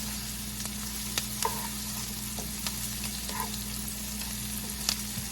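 Chicken sautéing in a pan on the stove for Panamanian-style arroz con pollo, a steady close sizzle with a few faint clinks of stirring.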